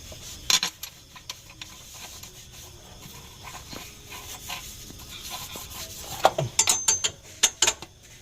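Bolts and a cover being fitted on a rebuilt overheated 136 HDL engine: scattered metallic clicks, ratcheting and clinks, sparse at first, then a denser burst of sharp taps near the end.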